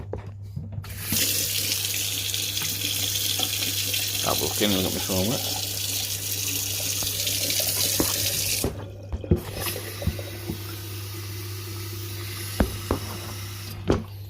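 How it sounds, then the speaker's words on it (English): Water runs steadily from a kitchen tap into an old kettle, a loud continuous gushing stream for about eight seconds that then stops, followed by a few clicks and knocks, with a person speaking briefly under the flow. "So when you're filling the water up, like I'm going to do now"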